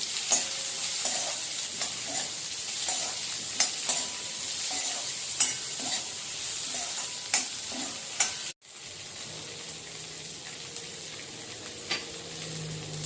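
Sliced onion frying in hot oil in a pan, a steady close sizzle broken by regular clinks of a spoon stirring, with a brief drop-out partway through before the frying hiss resumes.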